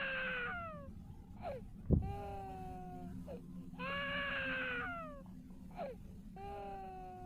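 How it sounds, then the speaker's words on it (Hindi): A small child wailing in long, drawn-out cries that repeat several times with short pauses, plus one dull thump partway through. "पीछे से किसी बच्चे की रोने की आवाज़ आ रही है"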